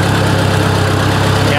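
A heavy Ford 800 tractor engine idles steadily with a low, even rumble and constant vibration, close and loud throughout.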